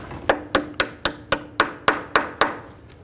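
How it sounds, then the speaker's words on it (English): Nine quick, evenly spaced metallic taps as a clip is knocked into place on the rear suspension knuckle of a 2003-2008 Subaru Forester, close and crisp with no talking. "Just give it a little tap."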